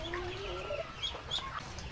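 Hens clucking softly and repeatedly on a farm during heavy rain, a few calls overlapping at close range against a steady low background rumble.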